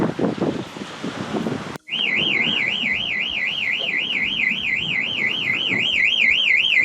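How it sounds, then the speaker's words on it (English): A boat's toilet alarm warbles in a loud, steady high-pitched wavering tone after a sudden cut, with background noise and rumble beneath and louder clatter before it starts. "Every time I go to the toilet, there is an alarm."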